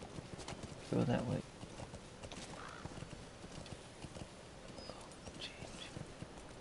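Horse hooves clip-clop under gameplay in Metal Gear Solid V, with a brief louder burst near the start, and a voice talks over the steady hoofbeats.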